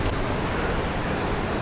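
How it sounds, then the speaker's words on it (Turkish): Strong wind buffets the microphone on an island coast in Taiwan, a steady, loud, broadband roar with surf-like rushing that holds without a break. "Rüzgar resmen dövüyor bizi şu anda arkadaşlar."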